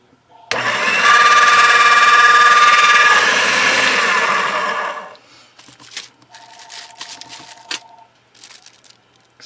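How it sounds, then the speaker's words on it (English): A phone rings in a quilting workspace with a short double-tone chirp pattern, heard faintly after a loud rolling, crinkling burst of fabric handling ends. Light background clatter surrounds the ringing. "Excuse my phone ringing."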